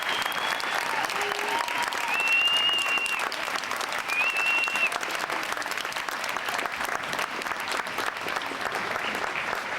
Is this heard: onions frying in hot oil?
no